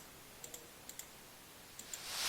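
Soft, sparse key clicks on a computer keyboard as a password is entered, a handful of light taps in small pairs against a quiet room background.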